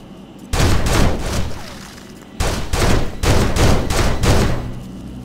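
Gunfire rings out in the 2006 PS2 shooter Urban Chaos: Riot Response, with two loud bursts of rapid shots separated by a short pause, and no talk over them.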